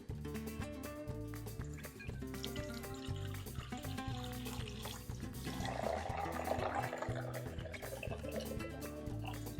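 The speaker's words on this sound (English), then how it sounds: "We're gonna be adding lukewarm milk." Lukewarm milk poured into a bowl of baking ingredients for apple pie cinnamon rolls, a soft, steady liquid trickle that stays faint and close throughout.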